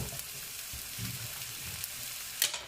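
Mushrooms sauté in a hot skillet with a steady, soft crackling sizzle and a few light stirring scrapes, fairly quiet and with no voices.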